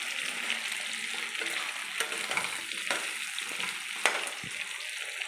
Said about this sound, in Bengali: আলুগুলো পেঁয়াজের সঙ্গে লাল লাল করে ভালো করে ভেজে নেব।